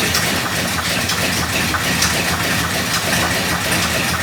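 A vintage 52-year-old Jeep Wagoneer engine idles up close, a steady, loud rumbling drone with no talk over it.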